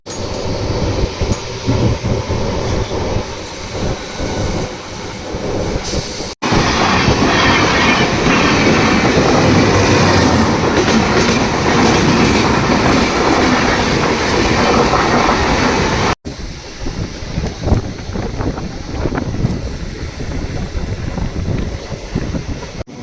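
A MEMU passenger train runs on the Tumkur–Bangalore line, loud continuous rumble and rattling wheel clatter heard from on board, with a sudden shift to a louder, denser roar in the middle stretch before settling back.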